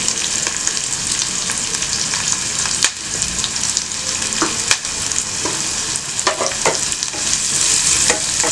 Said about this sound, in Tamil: இப்போ எண்ணெய் காஞ்சிடுச்சு. நம்ம கட் பண்ணி வச்சிருக்கிற வெங்காயம், பச்சை மிளகாய்,